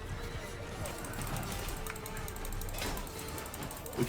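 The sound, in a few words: horse neighing and hooves in video game Mount & Blade 2 Bannerlord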